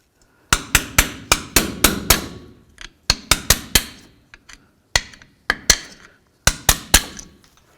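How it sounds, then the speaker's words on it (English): A hammer strikes a pry bar wedged under a rusted, frozen brake caliper slider on a 1988-2002 GMC Sierra 1500, with loud metallic blows in quick bursts of three to five, pausing between bursts. "Now we're just gonna take a little pry bar with our hammer, get right under here, and get this off of there."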